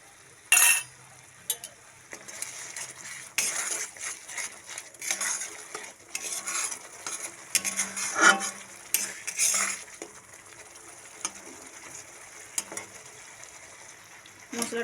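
Coriander-cumin spice masala being sautéed in a pan, with irregular clattering and scraping of a utensil against metal in uneven bursts, nearby and with no one speaking.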